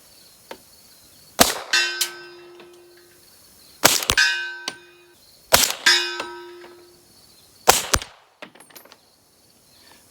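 A rifle fitted with a Dead Air Sandman X suppressor fires subsonic rounds, about five muffled shots at an uneven pace. Each shot is followed by a bright metallic clang that rings briefly, close and fairly loud.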